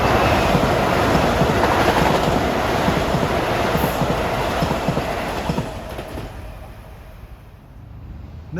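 An eastbound Metro North express train on the former New Haven line at Mamaroneck rushes past during evening rush hour. Loud wheel clatter and rail noise dominate at first, then fade away over the last few seconds.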